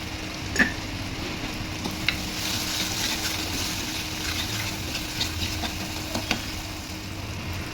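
Food sautéing in a pan with a steady broad sizzle and occasional light spoon taps and scrapes against the pan, even and close with no talking.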